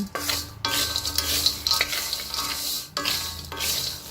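Peanut peyek fries in plenty of oil in a wok over medium heat, giving a steady, loud hiss and crackle with two brief dips near the start and about three seconds in.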